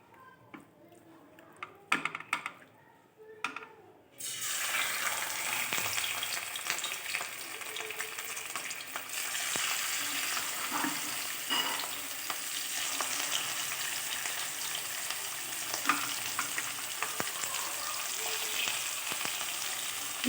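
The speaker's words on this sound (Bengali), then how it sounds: "মাছটা ভেজে নেব।" Chitol fish coated in salt and turmeric hits hot oil in a wok, setting off a loud, steady sizzle after a few seconds of near quiet and light clicks, then crackling continuously up close.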